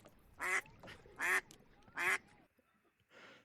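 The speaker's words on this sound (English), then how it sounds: "That was a duck, by the way." Three loud, nasal duck quacks in a steady row, each about a third of a second, followed by a softer fourth call after a brief pause; no talking.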